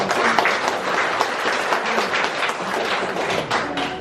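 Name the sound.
audience applause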